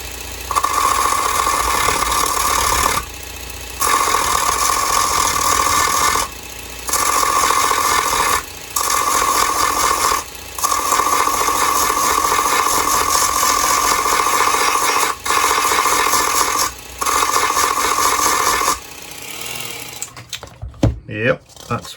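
David Union Modellers D600 mini belt sander running at medium speed against primed styrene, giving a steady buzzing whine in long bursts broken by brief pauses, ending with rattling handling noise.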